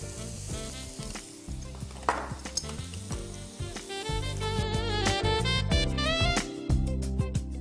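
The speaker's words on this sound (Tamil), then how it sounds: "ஸோ வெங்காயம் வதங்கிட்டுருக்கு" Onions, ginger, garlic and green chili sauté in hot oil, a steady close sizzle with occasional stirring clatter that swells louder toward the end.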